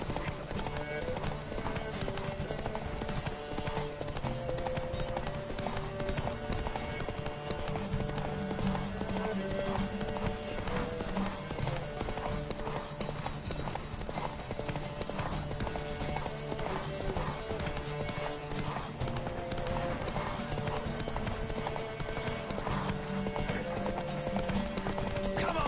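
A horse galloping in a race in the video game The Witcher 3, steady rapid hoofbeats throughout with music and voices in the background.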